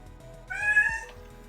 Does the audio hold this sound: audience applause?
no